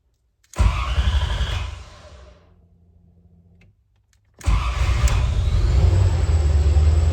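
A Corvette with a freshly repaired starter cranks and fires, a loud burst that fades to a low idle, then a second start that settles into a steady rumbling run, close by.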